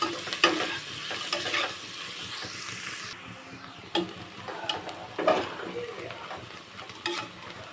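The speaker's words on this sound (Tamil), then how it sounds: "ஆனியன் நல்லா கோல்டன் ப்ரௌன் வதங்கணும் அது வரைக்கும் வெயிட் பண்ணணும்" Onions fry in oil for chicken biryani, a continuous sizzle broken by repeated spatula scrapes and clanks against the pan, no speech.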